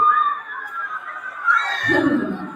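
A group of schoolchildren at an Islamic primary school event shouts and cheers together in a brief, loud burst that rises and then drops to lower voices near the end.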